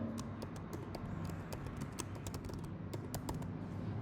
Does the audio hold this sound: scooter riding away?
no